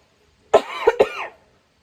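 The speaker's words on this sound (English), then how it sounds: "Don't mind my coughing." A single close, sharp cough breaks into a few raspy bursts, then trails off into silence.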